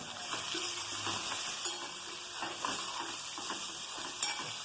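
Spices and coriander seeds fry in hot oil in a pan for tamarind rice (pulihora), giving a steady close sizzle with scraping stirs and light clinks throughout.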